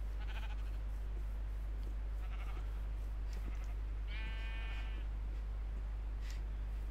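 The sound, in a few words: sheep bleating in the video game Minecraft (Tekkit)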